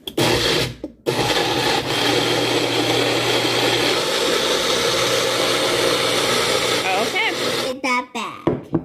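A kitchen blender whirs loudly and steadily while mixing oat milk, running for several seconds before cutting out. People talk briefly near the end.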